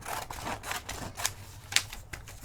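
Scissors snip through paper for a slow-stitch notebook cover, giving a few short, dry cutting bursts at close range with quiet rustle between them.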